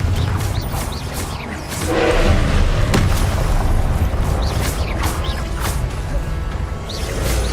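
Confringo fire spell explosions in Hogwarts Legacy: heavy booms and crashing impacts with swishing bursts over a dense low rumble, loud and close, several hits in quick succession.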